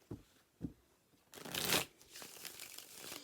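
Tarot cards are shuffled by hand close up: a couple of soft taps, then a rapid riffling burst followed by quieter ongoing card shuffling, with no speech.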